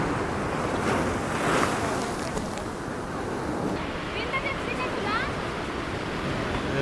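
Sea waves rolling onto the shore at Somnath make a steady, loud broadband rush of surf, mixed with gusty wind buffeting the microphone throughout.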